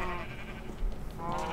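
Sheep on a farm give a short wavering bleat, followed by a quieter second call, heard fairly near with some low background noise.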